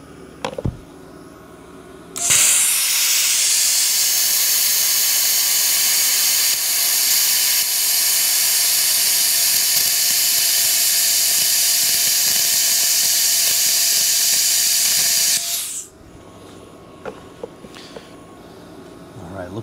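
A Vevor CUT50P budget plasma cutter slices through metal with a loud, steady hiss lasting about thirteen seconds. It starts and stops abruptly, and quieter workshop noise can be heard before and after the cut.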